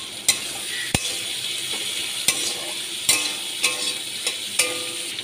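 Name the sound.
onions and chopped ginger frying and stirred in a pan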